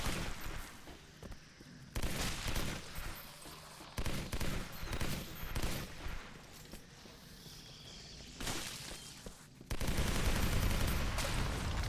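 Bursts of gunfire from the video game Legendary, repeated volleys of shots with game noise between them, loud and close, ending in a sustained burst.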